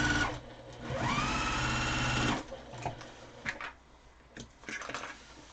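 Up close, a sewing machine sews lace down onto joined quilt squares in a steady run of about two seconds, then stops, followed by light fabric handling and soft clicks.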